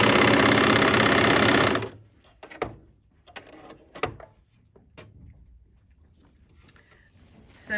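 A bernette 64 serger runs at a steady, loud mechanical whir for about two seconds while stitching lawn fabric, then stops, leaving soft handling clicks and rustles.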